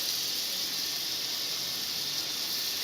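Butter sizzles in a hot pan for paneer butter masala, giving a soft, steady hiss that stays even and fairly faint throughout.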